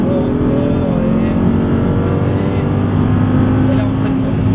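An Audi R8 V10 sports car engine roars steadily under load on a race circuit, droning loud and close without letup as it accelerates.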